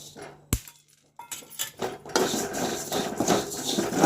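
Cumin and other spices dry-roasting in a pan for homemade rasam powder: a sharp clink near the start, then a steady rattling and scraping of seeds stirred against the metal, growing busier and louder toward the end.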